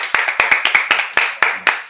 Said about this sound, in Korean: 이 두 분한테도 우리가 박수 한번 쳐주시죠.